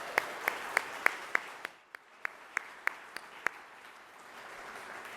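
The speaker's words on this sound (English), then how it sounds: "Let's give Mayor Fischer one more round of applause." Scattered, evenly spaced claps, faint against a quiet room, for Mayor Fischer at the opening of The Center by SIDIS in Louisville. They pause briefly midway, then resume in the same steady rhythm before stopping.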